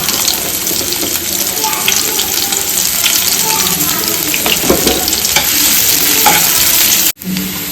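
Small onions sizzle steadily in hot oil with fenugreek and mustard seeds as a spoon stirs and scrapes the pan in bursts, close and continuous, with a brief pause near the end.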